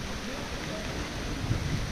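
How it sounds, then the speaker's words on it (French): Heavy rain pours steadily in Chichibu, Japan, a dense continuous hiss close by with no break across the whole stretch. "la pluie, ça s'énerve un peu"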